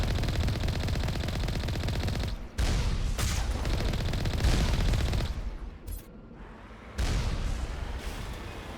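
Sustained turret gunfire in the Mass Effect video game, on the Virmire mission, with loud dense bursts of shots rolling through most of the stretch, broken by a few short gaps before the firing resumes.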